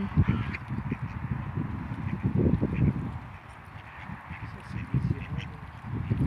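Wild ducks quack in bursts while feeding, nearby and fairly loud. Someone speaks intermittently over the calls, and a few softer rustling sounds mix in.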